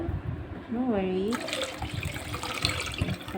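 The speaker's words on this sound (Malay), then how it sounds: "Dan you tambahlah air 1 liter." Water pours from a tap into a container with coconut milk for chicken korma, a gurgling splash under a voice and gliding tones, then the splashing continues briefly.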